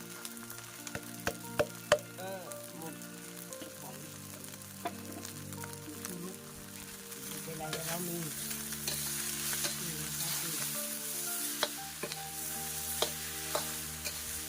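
Rice being stir-fried dry in a pan with a constant soft sizzle and occasional sharp spatula taps against the pan, close and fairly quiet, with no talking.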